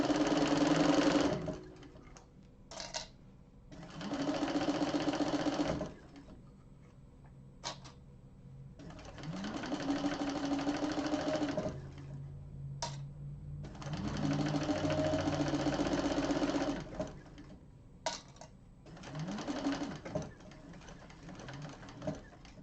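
Flatbed sewing machine top stitching a satchel, running in several loud bursts of a few seconds each with short pauses between, a steady close mechanical whirr.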